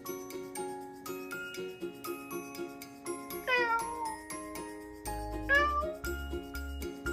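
A cat meows twice over a bouncy, tinkling music track, the calls rising and falling in pitch and sitting clearly above the accompaniment.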